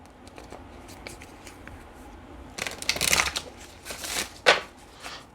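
Tarot cards are shuffled by hand, a few soft riffles and then a louder burst of quick flicking and snapping, with a sharp slap near the end.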